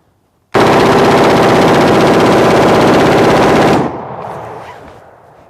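An automatic rifle, an M16 or an AK, fires one long uninterrupted burst, a loud close rapid rattle lasting about three seconds that stops abruptly and leaves a fading echo and faint rustle.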